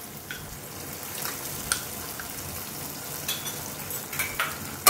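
Sauce and cornflour being stirred in a hot pan for restaurant-style chili chicken make a soft, fairly quiet sizzle, with brief spatula scrapes and clicks every second or so.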